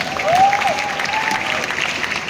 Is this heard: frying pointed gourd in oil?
no